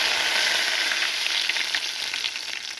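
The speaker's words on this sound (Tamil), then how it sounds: "சைடில் தாளிப்புக்காண்டி சின்ன கடாய் வச்சு அதில் சோம்பு போட்டு தாளிப்போம்" Fennel seeds sizzle and crackle in hot oil in a small kadai for tempering, a loud, steady, close hiss with scattered pops and no voices.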